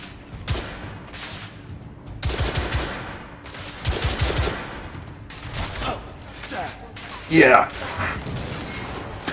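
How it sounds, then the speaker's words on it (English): Gunfire in The Order: 1886 video game comes in repeated bursts of loud, sharp shots, followed by a heavy grenade blast near the end, with a player speaking briefly over it. "Oh, that guy was carrying a grenade. I don't know what took it so long to go off."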